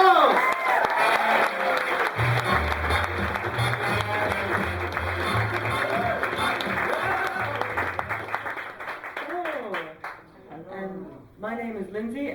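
An audience claps and cheers at a Bright Club comedy show in Newcastle, with music playing underneath, fading after about ten seconds as a voice begins singing or speaking.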